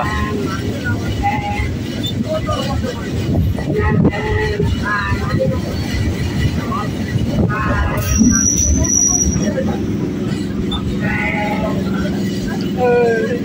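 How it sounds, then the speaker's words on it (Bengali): The Howrah Mathura Chambal Express rolls along the line with a continuous rumbling and rattling of rail cars, heard throughout under people talking and background chatter, with a brief sharper squeal partway through. "হাওড়া মথুরা চম্বল এক্সপ্রেস।"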